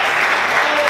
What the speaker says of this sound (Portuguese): Vamos aplaudir Jesus com bastante alegria.